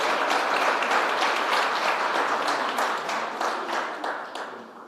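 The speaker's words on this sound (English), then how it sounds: "Let's give her a round of applause." Audience applause fills an awards ceremony hall for an arts honour, a dense steady wash of many hands clapping that holds for several seconds and then slowly thins and fades.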